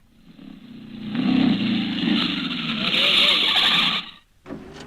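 Taxi car pulling away from the kerb, its engine rising and rumbling for a few seconds close by before cutting off abruptly, with a voice speaking over it.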